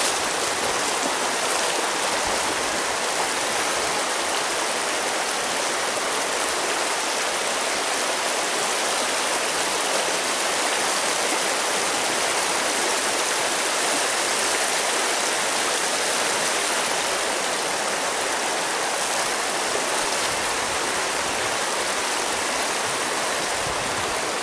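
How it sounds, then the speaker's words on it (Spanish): Fast-flowing river rushing steadily and loudly close by, a continuous dense roar of water with no speech over it. "Está rápido el río igual."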